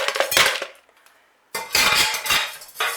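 Small lava rocks clatter and rattle as they are poured into a plant pot for a Phragmipedium orchid, in two loud bursts separated by a brief near-silent pause.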